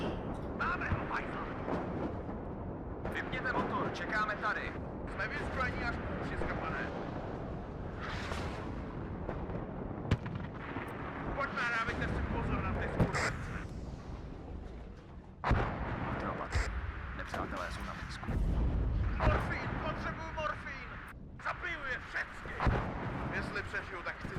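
Artillery fire from counter-battery strikes on mortar positions in the war strategy game WARNO, heavy booms and rumbling blasts repeating throughout under continuous talk, with loud low-end bursts near the end.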